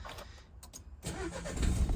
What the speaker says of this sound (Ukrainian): з півоберту у нас автомобільчик завівся